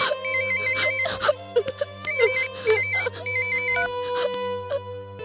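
A mobile phone ringtone plays as a call is placed, a looping electronic melody with repeated bright tonal phrases over a steady low hum, loud and close, with no voices.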